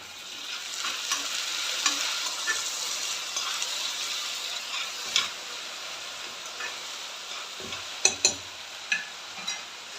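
Potato pieces frying in a pan give off a close hiss of sizzling oil. A few sharp scraping and clinking stirs stand out near the end.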